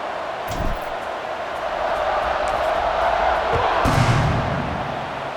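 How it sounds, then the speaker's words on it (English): A stadium crowd in College Football 26, during a Texas Tech versus TCU game, roars steadily as a broad, sustained wash of cheering that swells slightly midway, with brief thumps over it. "You think this crowd's going to get loud when their defense comes on the field?"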